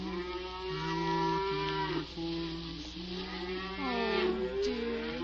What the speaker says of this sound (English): It's only the cows. They're driving them home now.